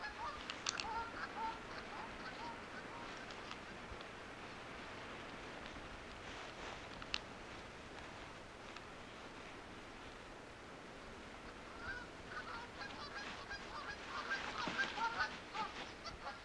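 Flock of geese honking at a distance, faint scattered calls over a steady background wash like surf, growing busier toward the end.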